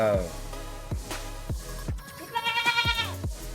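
Three-year-old castrated male goats bleat close by, a series of short, wavering cries repeating roughly every half second and ending in a longer trembling bleat, with a person talking in between.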